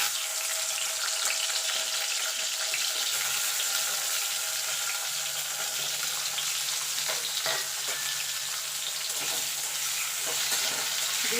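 Tomatoes, green chillies and ginger fry in hot oil in a pan, making a steady, even hiss of sizzling with occasional faint clicks of stirring, heard alone without voices.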